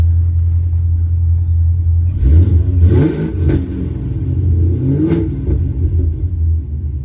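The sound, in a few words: Cadillac CTS-V with Kong X-Port and long tube headers revving, supercharger whine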